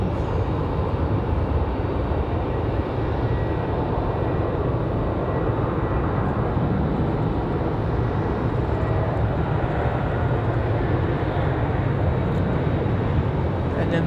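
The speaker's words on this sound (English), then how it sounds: "We've got that Southwest departure rolling." A Southwest airliner rolls for departure takeoff at Raleigh Durham airport, a loud, steady engine roar that holds throughout with little change in level.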